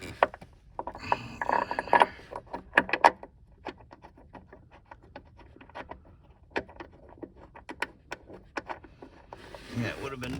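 Metal bolt being fitted and fastened by hand while swapping the battery in a 2009-2017 Chevy Traverse, heard as scattered close clicks, scrapes and ratcheting taps at an irregular pace, with some background speech.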